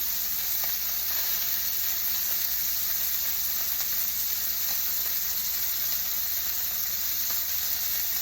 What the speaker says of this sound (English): the frying of the meat is very loud for those of you in the audience